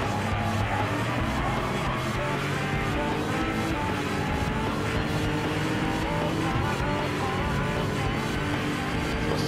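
Gr.3 race car in Gran Turismo Sport, a steady loud engine roar with tire squeal as it brakes and accelerates, continuous throughout with no talk.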